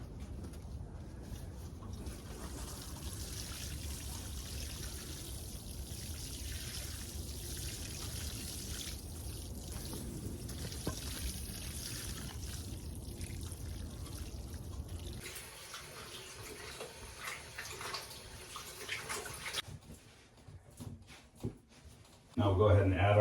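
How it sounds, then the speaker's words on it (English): Water running and trickling onto the soil of a newly planted tree, a steady splashing flow that gives way to quieter dribbles and stops near the end. "I'm gonna go ahead and water it again."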